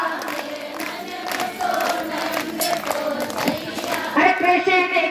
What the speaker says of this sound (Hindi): हाथ उठाकर ताली बजाओ